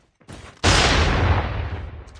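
A single loud sniper rifle shot fires in a video game, a sharp close boom with a long rumbling tail, preceded by a faint click.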